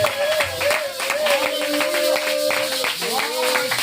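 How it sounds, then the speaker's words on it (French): A church congregation claps along at close range, with dense, steady clapping and some voices beneath a sustained tone, continuing throughout. "Acclamons très fort le roi des rois, le Seigneur du Seigneur."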